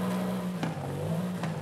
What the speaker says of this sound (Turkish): Stok zaten spor egzoz oluyor. Bir dinleyelim.